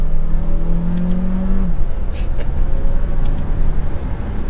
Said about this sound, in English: It's got a nice little engine tone to it with that hybrid buzzing noise on top of it.